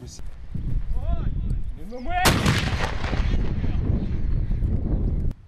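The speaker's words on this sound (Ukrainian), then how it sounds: "освітлюваною міною в навчальних цілях для тренування як мінометного розрахунку" A single heavy mortar launch of an illumination round during training booms sharply midway, its blast rolling out and decaying, with people talking before it.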